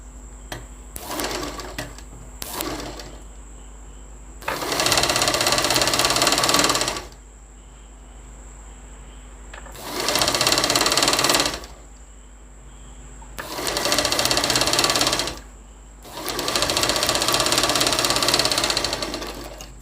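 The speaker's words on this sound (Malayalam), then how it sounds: "എന്നിട്ട് 1/4 ഇഞ്ച് വിട്ടിട്ട് സ്റ്റിച്ച് ചെയ്യാം" Sewing machine stitching kurti sleeves a quarter inch from the edge: four steady, whirring runs of several seconds each, close and loud, separated by quiet pauses with faint handling sounds.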